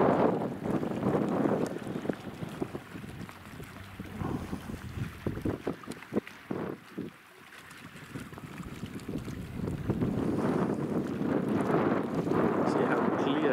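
Strong wind gusts across a salt lake at Siwa Oasis in Egypt, buffeting the microphone in loud, rushing waves that ease briefly midway and then build again. A person talks over part of it.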